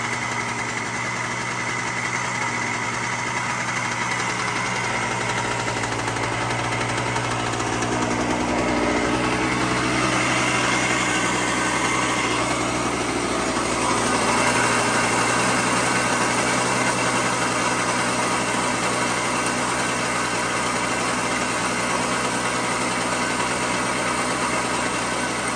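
A 1975 Harley-Davidson SX250 motorcycle engine idles steadily for a long stretch, a close, constant buzzing drone with a faint rhythmic rattle and slight swells in intensity.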